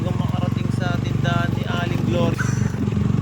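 A motorcycle engine runs steadily and loudly as it crosses a river on a mountain trail in Tanay, its rhythmic putter rising and dipping, with faint voices underneath.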